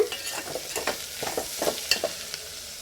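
A bitter gourd mixture for hagalakai huli fries on low flame in a pan, a steady soft sizzle broken by irregular scraping stirs of a spoon, close and with no voices.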